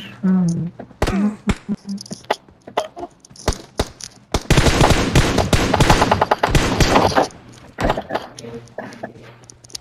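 Bursts of close automatic gunfire in PUBG's Halloween mode, a dense rapid volley in the middle flanked by scattered single shots and thuds, with a voice talking briefly at the start.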